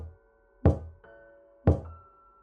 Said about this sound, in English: 3 slow knocks.